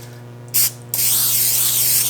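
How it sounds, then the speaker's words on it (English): Pam original cooking spray hisses from the can onto a hot griddle, first in a short burst and then in a longer sustained spray. A steady low hum sits underneath. "Gonna grab a little bit of our Pam original"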